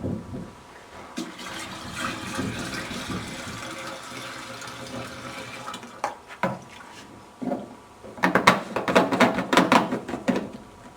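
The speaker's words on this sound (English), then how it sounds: "Filling the machine is again very simple. Merely remove the cap at the front and fill in the normal manner." Water pouring into the solution tank of a Rawlins Acrobat scrubber dryer, a steady gushing fill that turns into louder splashing, gurgling bursts near the end.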